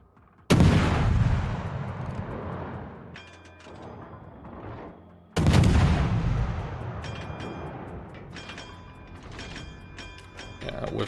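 Naval guns in a warship video game fire two heavy booming salvos several seconds apart, each followed by a long rumbling decay and mechanical clanks and creaks.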